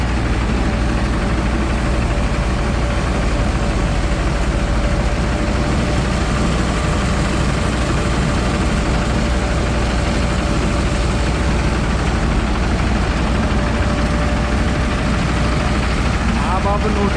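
Mahindra Arjuna Novo 605 DI combine harvester running in a paddy field, a loud, constant low diesel drone with a steady hum and no pauses throughout.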